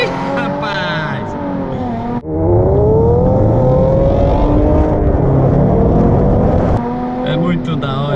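A Chevrolet Camaro revs hard and drifts, its loud engine note rising and falling in strained sweeps, with a brief cut before it climbs again. Excited voices talk over it.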